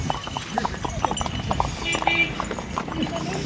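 Horses' hooves clip-clop on a path in Pahalgam, Kashmir, a steady stream of light, sharp hoof strikes at moderate distance under ongoing talk.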